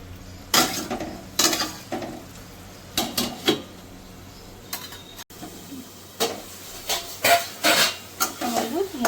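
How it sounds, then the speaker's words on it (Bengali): Masala for doi katla gets sautéed and scraped in a pan, with repeated spatula strokes and clinks coming in uneven bursts over a soft sizzle, and one short pause midway. "আমি ভালো করে মশলাটাকে এবার কষিয়ে নেবো"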